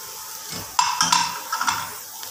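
Chopped onion frying in a pan, with a bright sizzle that swells as it is stirred and a few scraping, clinking utensil touches against the metal.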